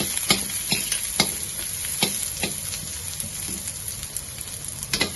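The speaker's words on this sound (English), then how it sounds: "put in our garlic and ginger." Garlic and ginger frying in a little oil over the lowest heat while making a spicy sour shark meat broth, giving a steady close sizzle broken by a few sharp stirring scrapes, with no talk.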